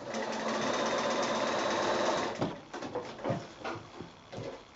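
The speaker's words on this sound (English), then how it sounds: "I'm going to go back in and sew now just about a quarter of an inch down from the previous line of sewing" A sewing machine runs steadily for about two seconds stitching a small quilted fabric bag made from 6-inch squares, then stops, leaving a few soft handling knocks and clicks.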